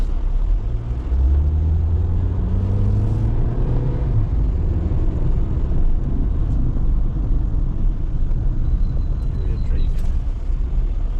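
A car drives along a street in Georgetown, Guyana, its engine and road noise a loud, steady low rumble throughout, with people talking inside the vehicle over it.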